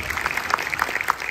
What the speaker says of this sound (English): A big clap for all the kids.